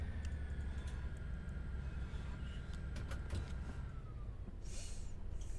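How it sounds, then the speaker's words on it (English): Guard's buzzer in a Class 158 train cab in Train Sim World 3 on the Midland Main Line, heard as a thin steady tone over constant engine and running rumble, with a few brief clicks near the end. "that's definitely a 158 buzzer"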